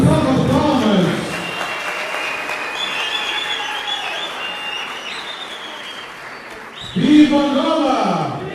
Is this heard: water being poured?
no